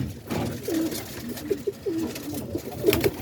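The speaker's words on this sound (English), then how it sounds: "Then we got the kit birds over here." Kit pigeons coo in a series of soft, repeated low calls close by in a bird loft, with a steady murmur of background noise underneath.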